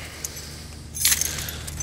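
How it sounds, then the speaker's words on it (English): A ring of car keys jingles close up as it is dug out of a pocket in sub-zero cold, a brief bright metallic rattle after a quiet low hum. "Get digging the keys here, you know."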